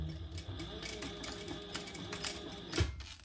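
A home sewing machine back stitches fabric, a faint, busy mechanical whir with rapid needle ticks and a small clunk near the end, no voice over it.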